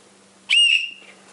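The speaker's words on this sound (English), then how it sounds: "There's the whistle." A whistle from a subscriber giveaway box gives one clear, shrill blast lasting about half a second, strong at first and then fading, with quiet room tone before and after.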